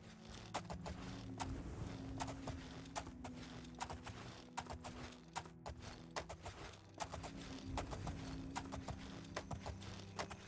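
A horse's hooves clip-clop in a steady trotting rhythm as a rider travels at night in the video game Oblivion, crisp and fairly quiet, with low ambient game music underneath and no talking.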